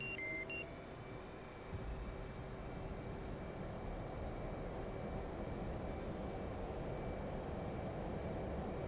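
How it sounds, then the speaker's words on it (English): Jet engine in the DCS flight simulator spooling up on a supercarrier deck with folded wings, a steady broadband roar with a high whine, loud and continuous throughout without talk. "And throttling up."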